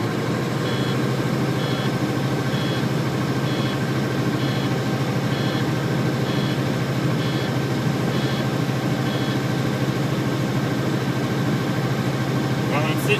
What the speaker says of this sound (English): I'm going to go ahead and rev up the motor so I can get my air pressure to build up faster.